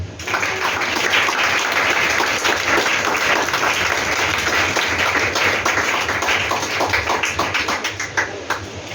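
A church congregation applauds at a French-language prayer service, sustained dense clapping from many people that fills the room for nine seconds before tapering off slightly at the end.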